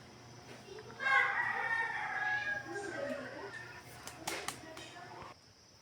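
Rooster and hen on a farm, with rising clucking and crowing-like calls lasting several seconds at moderate distance, followed by a few sharper bursts near the end over a low steady background hum.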